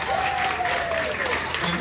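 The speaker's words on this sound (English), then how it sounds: "everybody will put that hand in the air, and give you a nice big round of applause" Audience applause at a cabaret magic show, a steady wash of clapping that holds for a couple of seconds at moderate level with a voice faintly over it.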